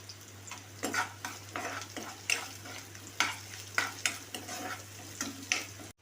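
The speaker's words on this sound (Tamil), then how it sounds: "வெங்காயத்தை சேர்த்துக்கலாம். நல்லா வதக்கிக்கோங்க. இப்போ வெங்காயம் நல்லா வதங்கிருச்சு." Onions being sautéed in oil for a cabbage poriyal: repeated spatula scrapes and stirs over a gentle, continuous frying sizzle, close and fairly quiet, with no voices.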